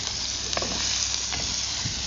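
Garlic sautéing in hot cooking oil in a preheated pan outdoors, a steady close sizzle and crackle with a few stirring scrapes, no talk.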